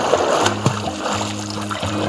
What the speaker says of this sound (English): That's knee-deep mud, not water.